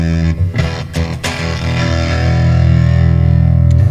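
An electric guitar on a humbucker pickup played through a JHS Colour Box distortion pedal: a few picked notes, then a loud, sustained, thick distorted chord ringing out alone.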